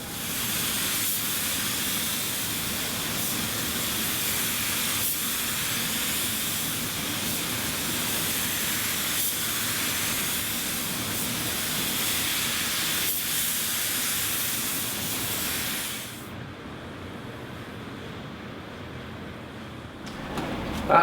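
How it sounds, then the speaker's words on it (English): A spray gun lays clear coat onto a car's paint in a steady, close, continuous hiss that runs unbroken for about sixteen seconds before cutting off into near silence, then a faint click. "Let's get the clear coat on"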